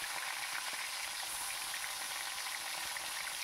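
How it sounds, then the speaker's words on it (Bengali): Bhetki fish pieces fry in hot mustard oil with a faint, even hiss and sizzle that holds steady throughout. "সর্ষের তেলটা একটু গরম হয়ে গেলে আমাকে ভালো করে মাছগুলোকে ভেজে নিতে হবে"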